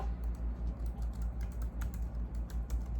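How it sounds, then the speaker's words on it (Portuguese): Steady typing on a computer keyboard during a civil procedure lesson, soft rapid key clicks over a low, regular background hum, with no voice. "Vou digitar para vocês aqui,"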